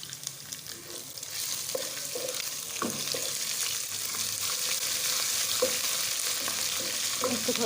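Onion, garlic and ginger fry in a pan for besan pakoras, giving a steady, close sizzle with faint stirring clinks and scrapes throughout and no voices.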